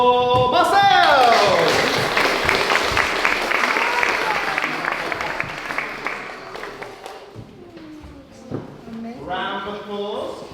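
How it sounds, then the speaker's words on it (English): A room of parents and pupils claps for a leaver at a school leavers' service, dense applause that starts loud and gradually fades over several seconds, with people talking over it. "Round of applause for Marcel."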